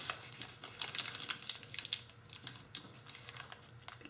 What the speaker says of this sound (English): And then fold this whole section up and fold one layer over.